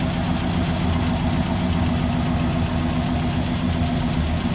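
A 1939 Buick Special Model 46 Business Coupe's straight-eight engine idles steadily and loudly up close, a continuous low rumble with no voices over it.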